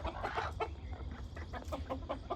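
Village country hens cluck in short repeated bursts over a low farmyard rumble, moderately close and fairly quiet, with no talking.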